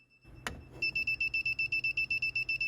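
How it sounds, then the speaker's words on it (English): An electronic circuit breaker finder beeps rapidly and steadily in a basement, a rhythmic series of sharp, even pulses following a brief click. "It'll start beeping like crazy once you hit the right breaker."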